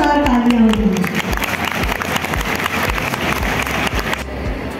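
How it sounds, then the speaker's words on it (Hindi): Loud, dense applause from a crowd at a convent school silver jubilee celebration in Gohana, with a voice speaking over the start before the clapping carries on alone and cuts off near the end. "इस ग्रैंड सेलिब्रेशन के लिए एक बार जोरदार तालियां हो गई।"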